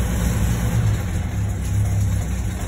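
A vintage car engine idles while warming up after winter storage, a steady low rumble with a faint continuous hiss above it, running evenly with no revving.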